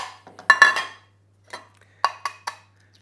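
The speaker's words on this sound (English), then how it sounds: "So we're going to grab an egg and a dish" Several light clinks and clatters of a dish being set down and handled while preparing egg wash for a Cornish pasty, in short separate bursts with quiet gaps between them.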